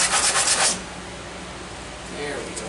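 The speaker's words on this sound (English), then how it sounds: "Pull some of this grit off the... The other sandpaper was 80 grit." Sandpaper rubbed over a tractor engine block, grit being worked off by hand: a loud, close, hissing scrub in quick strokes for under a second, then a quieter stretch with faint rubbing near the end.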